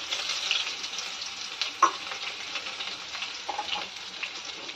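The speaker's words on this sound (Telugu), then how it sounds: "అలాగే కచ్చాపచ్చాగా దంచిన వెల్లుల్లి ముద్దను వేసుకుంటున్నాను." Crushed garlic paste and mustard seeds sizzling in hot oil in a pan, a steady soft crackling hiss with a few brief pops and stirring scrapes.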